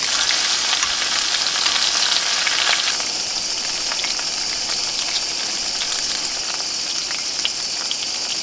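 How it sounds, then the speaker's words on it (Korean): Steady crackling sizzle of shrimp frying in hot oil in a pan, dense and close, running continuously with no voices. "엄청 바삭하게 튀겨서 먹고 싶거든요."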